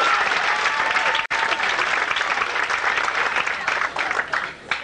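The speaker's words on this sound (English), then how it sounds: "Non-smokers, by round of applause." Loud applause from a comedy club crowd at a 1991 Bill Hicks set in Austin, Texas, clapping dense and lively with a few whoops, cutting briefly, then tapering off at the end.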